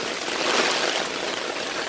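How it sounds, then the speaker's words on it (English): Rainstorm runoff rushes through a backyard drainage setup of French drains, downspout and tanks, a steady broadband hiss of flowing water with no voices. "this is the new setup in the middle of a rainstorm"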